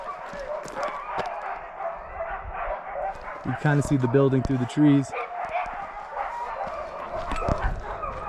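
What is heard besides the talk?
dogs and wolves barking at a wolf and dog rescue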